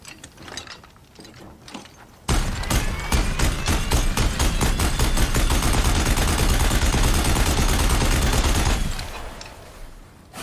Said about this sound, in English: I gotta hold the button to actually shoot it like a gun